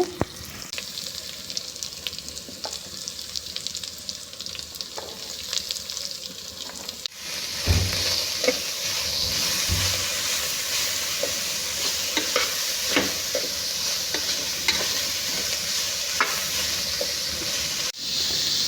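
Shredded cabbage tipped into a hot pan of fried onions sizzles sharply, the hiss swelling louder midway as it is stirred and scraped, with no talk.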